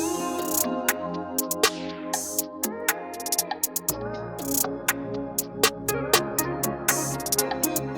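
An RnB beat made in FL Studio plays, with crisp hi-hats where each closed hit chokes the ringing open hi-hat, over kicks, bass and chords in a steady groove.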